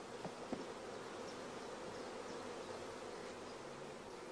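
Honey bees around hive frames during queen rearing make a faint, even hum throughout, with a couple of soft clicks near the start.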